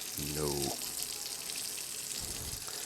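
Tap water runs while a sourdough bowl is cleaned, a soft steady hiss of flowing water under brief speech at the start, with faint clatter near the end.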